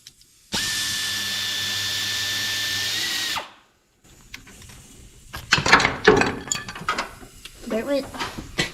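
A power tool whines loudly and steadily for about three seconds while removing 10mm tensioner bolts, then stops; metallic clinks and rattling parts follow, with voices talking.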